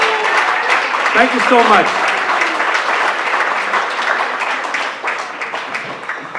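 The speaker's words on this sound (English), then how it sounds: "Just give them a round of applause, please." Audience applause for standing veterans at a Memorial Day gathering, loud continuous clapping from a crowd while someone speaks briefly over it.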